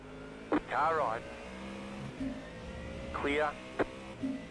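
In an IMSA sports car racing video game at Daytona, engines drone steadily while another race car draws alongside on the right, with short swooping whines rising and falling twice over the continuous motor hum.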